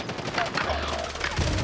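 Rapid bursts of automatic gunfire from a battle royale quads match, loud and continuous with shots crackling over one another and a low rumble, no talk over it.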